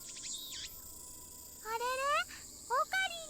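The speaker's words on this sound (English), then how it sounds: "I can hear the chirping of cicadas from the few trees growing here" Cicadas and insects chirp near a shrine in the Steins;Gate video game, a faint steady buzz with quick, rising chirp bursts near the end, set against a soft background hum.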